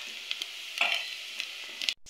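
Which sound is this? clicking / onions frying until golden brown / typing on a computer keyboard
onions frying until golden brown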